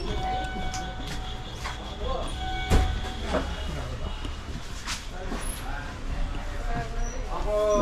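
A local passenger train on the Sealdah to Darjeeling route rolls on with a steady mid-level rumble, scattered knocks and clatter, and one sharp jolt near the middle, heard from inside the carriage.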